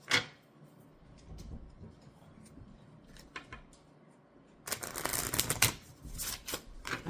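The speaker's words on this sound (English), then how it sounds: "as I'm shuffling the cards here" A deck of tarot cards being shuffled: soft papery riffles and taps early on, then a dense, louder run of quick flutters and snaps in the last few seconds, close to the microphone with no talk.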